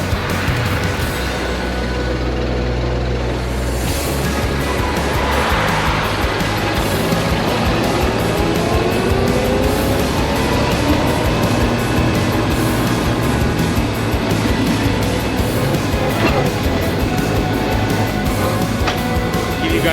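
A fire engine fitted with a rebuilt Ford Model A engine runs at a steady, loud, continuous rumble with broad mechanical roar throughout and no break.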